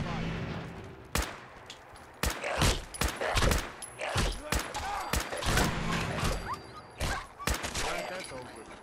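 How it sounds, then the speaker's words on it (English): Gunfire in Fallout 4, including laser musket shots, comes as a string of sharp, loud blasts spaced a second or so apart over a few minutes, close, with a voice talking between some of the shots. "the laser musket is that, like, you shoot once and then it takes so long to crank it"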